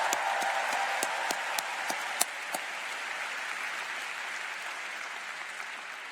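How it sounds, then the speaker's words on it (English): Cheering and applause from a convocation audience for Welcome Week leaders, a soft steady wash of many hands with a few sharper nearby claps early on, gradually settling over six seconds. "How about a cheer for your Welcome Week leaders?"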